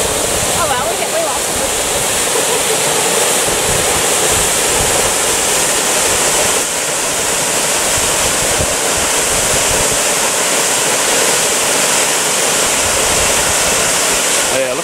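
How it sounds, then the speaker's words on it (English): A large waterfall at Lake Waikaremoana in Te Urewera Forest roars loudly and steadily, a dense unbroken wash of falling water that fills the whole stretch. "That is not a swimmable waterfall."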